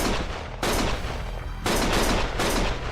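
Gunfire in the video game Lost Judgment: loud, sustained bursts of rapid automatic shooting, three dense volleys with brief dips between them.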